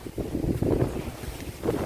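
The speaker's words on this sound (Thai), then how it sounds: "ลมมาแหละ" Gusting wind buffets the microphone outdoors in low, rumbling bursts that rise and fall unevenly over a couple of seconds.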